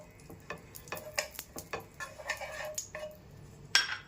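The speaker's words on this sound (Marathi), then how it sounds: "आता त्यामध्ये घेतलेले 2 चमचे साजूक तूप आहे, ते मी त्यामध्ये टाकून घेते" Ghee going into a pan while making sesame jaggery chikki, with light clinks and scrapes of a spoon against the pan in an uneven rhythm over a faint sizzle, close and without voices.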